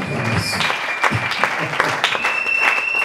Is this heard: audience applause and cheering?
yes